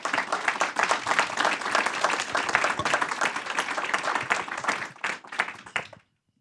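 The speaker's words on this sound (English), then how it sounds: "If you guys could join me in a round of applause." Audience applause at a women's strategy conference panel in Phoenix, a dense burst of clapping that holds steady for several seconds, thins out, then stops abruptly.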